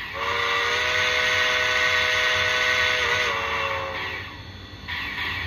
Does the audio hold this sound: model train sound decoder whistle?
yes